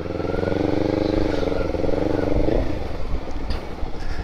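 A Honda CB150 motorcycle engine runs close by with a steady, throbbing idle rumble, then turns rougher and more uneven in its last seconds. Faint voices may sit in the background.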